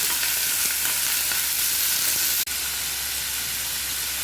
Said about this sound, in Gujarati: 4 મોટા કાંદા ચોપ કરીને લીધા એડ કરશું. મિક્સ કરી લઈશું.